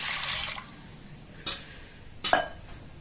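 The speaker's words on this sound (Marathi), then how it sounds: "पातेल्यात पाणी ओतले" Water is poured into a cooking pot, a splashing rush at the start followed by two short, separate splashes.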